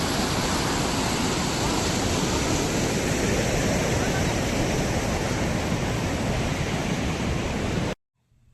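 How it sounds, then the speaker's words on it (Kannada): The Kaveri river rushes strongly, producing a loud, unbroken close-up roar of churning water that holds steady before cutting off abruptly near the end. "ನೀರು ತುಂಬ ಜೋರಾಗಿ ಬರ್ತಾಯಿದೆ"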